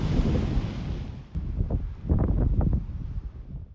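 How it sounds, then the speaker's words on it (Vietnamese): Cool wind gusts across an island beach in Bình Thuận, Vietnam, with sea waves washing in beneath them; a steady, loud rush of wind buffets the microphone, swelling and easing in waves. "gió mát, sóng thì vỗ rì rào"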